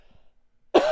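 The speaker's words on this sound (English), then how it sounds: "I'm coughing like crazy." A person gives a single sharp, loud cough close to the mic, bursting in abruptly after near silence and faint low sounds.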